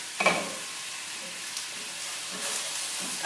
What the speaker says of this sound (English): Oh yeah, everything's frying up.